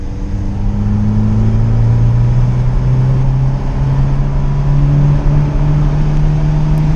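Two street cars, a Mitsubishi Evo X and a Jeep SRT8, accelerating hard side by side in a street race, a loud steady engine roar with a slowly rising pitch that holds for the whole stretch, with no talking.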